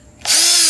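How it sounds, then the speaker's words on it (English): A Milwaukee M18 Fuel half-inch cordless drill spins up from quiet to a loud, steady whir within a fraction of a second and holds its speed close by. "And this is the half-inch drill."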